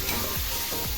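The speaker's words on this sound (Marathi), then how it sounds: "कांदा टोमॅटो छान असा परतून घ्यायचा" Onion and tomato sautéing in a pan for a spicy tinda (dhembsa) vegetable dish, giving a steady soft sizzle with a few faint stirring scrapes, close and continuous.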